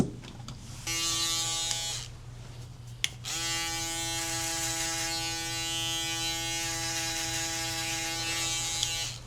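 Electric hair clippers shaving the bottom of a haircut at a barbershop, giving a steady close buzzing hum that runs for about a second, cuts out briefly, then restarts and holds its drone without talking.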